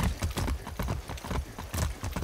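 Steady clip-clop of horse hooves in the video game Far Cry 6 at a brisk trotting rhythm, close and fairly loud, with no talking.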